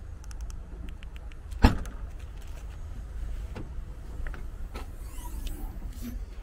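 A 2017 Ford Focus hatchback unlocking with a single sharp mechanical clunk of the door locks, followed by faint clicks and quiet ambient noise.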